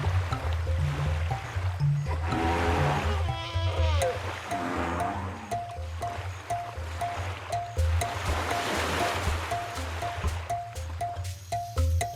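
River water churned by wading and splashing elephants, including babies, a continuous rushing wash with intermittent splashes and low rumbles from the herd, moderately near, with no voices.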